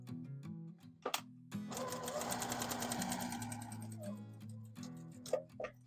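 A sewing machine stitches fabric for a self-binding receiving blanket in a steady rapid run lasting about three seconds, bracketed by quieter hum and clicks, close and clear with no talking.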